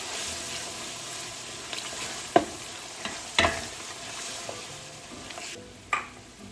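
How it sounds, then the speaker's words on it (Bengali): Spices sizzling and being stirred in a pan for mutton curry with potatoes, with a steady low fry hiss and a few sharp scraping clinks of the spoon against the pan; no talking. "এখন খুব ভালো করে আমি মশলাটা"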